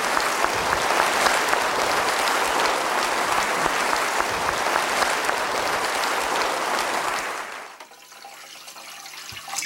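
Sustained applause from an audience at an award ceremony, dense clapping at steady volume that fades out near the end, leaving near silence.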